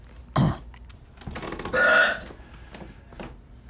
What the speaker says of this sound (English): Burp to say go.